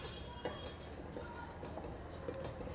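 A spoon stirs ghee into vermicelli kheer in a pot, giving soft continuous scraping and light metallic clinks against the pot, close and steady without talk.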